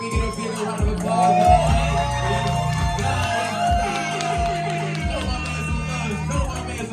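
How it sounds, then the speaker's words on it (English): Crowd at a live concert in a bar cheering and whooping over a pulsing low music bed, with shouts and voices mixed in, lively and sustained at moderate loudness. "can we get a bigger round of applause?"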